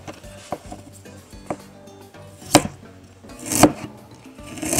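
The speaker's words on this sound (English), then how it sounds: "we need to chop this quite thin, quite small" A knife chops food finely on a cutting board for Peruvian-Chinese fried rice, giving sharp, close, irregular taps, with two louder strikes near the middle and no talk.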